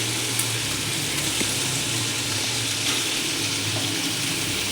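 Steady, close hiss of quail frying in hot oil, a broad continuous sizzle with a faint low hum underneath and no voices.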